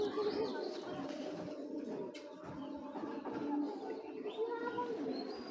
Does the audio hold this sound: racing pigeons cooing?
yes